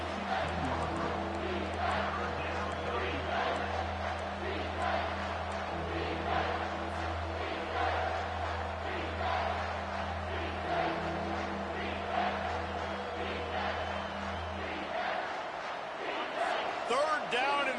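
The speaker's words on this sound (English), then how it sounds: "this crowd will blow out a vocal cord to help this defense" A football stadium crowd roars in a dense, sustained wash of cheering behind a commentator's play-by-play in a college football video game. The noise drops off near the end.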